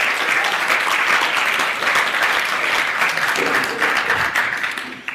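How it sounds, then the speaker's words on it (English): A crowd applauds loudly and continuously, the dense clapping sustained before tapering off slightly at the end. "She deserves a round of applause for what she's done."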